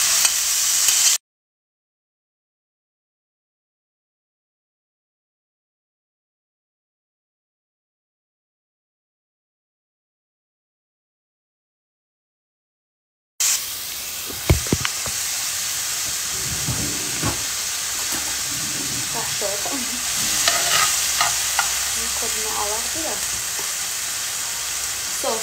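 Tomato and garlic sizzling in hot oil in a pan, with stirring scrapes and crackles; the sizzle starts loudly after a long silent gap and continues steadily close up.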